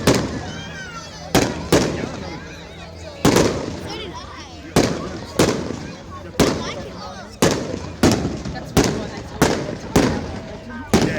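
Fireworks bursting outdoors at a Bunnings store in Munno Para West: about a dozen loud, sharp booms at irregular intervals, each trailing into a rumbling echo, with people talking faintly between blasts.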